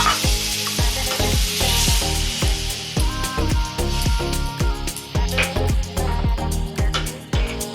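Prawn curry with tangy, spicy-sweet sauce simmering in a pan after water is added, giving a loud, dense bubbling sizzle up close with continual stirring and scraping strokes throughout.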